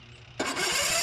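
A Case 1816c skid steer engine cranks and catches with a sudden loud roar, running rough and steady after a moment of quiet murmur.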